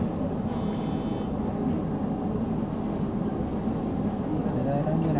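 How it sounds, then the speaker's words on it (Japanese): Steady low rumble of a JR Central 313 series train starting to move on the Tokaido Main Line, a continuous rolling drone with faint metallic squeals and some background voices. "動きますのでご注意ください。"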